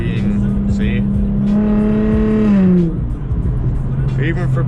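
Engine of an Infiniti with an automatic transmission accelerating, a steady rising drone with clear harmonics that climbs in pitch for about three seconds, then drops back, loud and close from inside the car.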